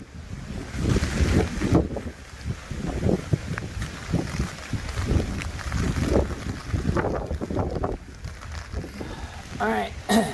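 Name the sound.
wind gusts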